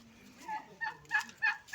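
Turkeys in a laying area give a few short, close gobbling calls in quick succession, fairly soft and with no one speaking over them.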